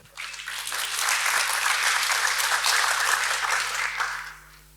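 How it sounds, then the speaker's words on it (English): Audience applause at a tech conference talk, steady dense clapping swelling quickly, holding for several seconds, then fading out alone. "Give him a round of applause."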